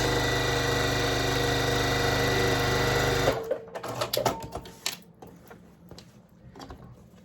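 Sewing machine stitching rainbow patchwork fabric for a project bag, a loud steady motor whir running close for about three seconds, then stopping into clicks and handling noises.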